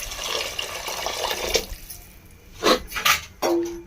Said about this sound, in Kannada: ಒಂದೂವರೆ ಸರಿ ನೀರು ಹಾಕಾಕತ್ತೀನಿ